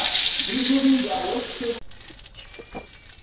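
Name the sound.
pointed gourd peels frying in hilsa fish oil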